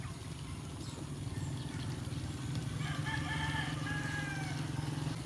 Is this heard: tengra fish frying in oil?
no